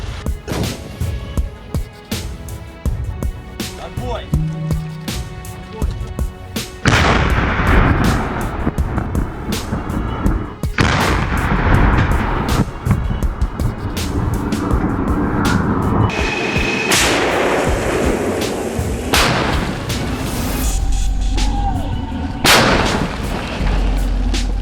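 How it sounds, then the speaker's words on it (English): Cannon shots ring out repeatedly, loud sharp booms with long rumbling echoes spaced a few seconds apart, over a continuous background drone, growing denser and heavier after the first several seconds. "Гармата! Постріл!"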